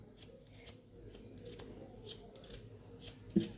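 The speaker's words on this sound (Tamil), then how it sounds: "இதை ஒன்றை வெட்டி போட்டுட்டோம் மீதியை கீரி போட்டுருவோம்" Amla gooseberries being slit with a knife for salting, a soft crisp cutting sound with a few light snips, the last one sharper and louder, close by and alone.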